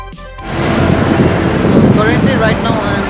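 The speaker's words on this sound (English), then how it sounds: "Right now I'm in Batuta metro station." Loud rumbling hum of Batuta underground metro station, with a train rolling through and a brief high squeal near the end.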